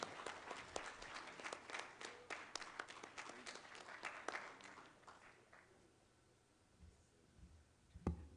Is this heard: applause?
yes